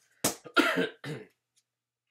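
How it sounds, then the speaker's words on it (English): Three sharp coughs in quick succession, close and fairly loud, followed by silence. "The 50th cough there."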